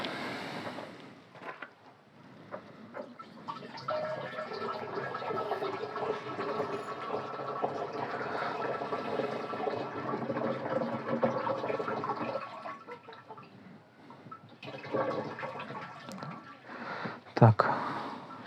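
Water sloshing and swirling in a container as Median Extra fungicide is stirred to dissolve it, a steady close liquid churn that eases off near the end, with people talking over it.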